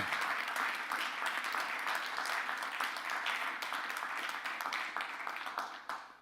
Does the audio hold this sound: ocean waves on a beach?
no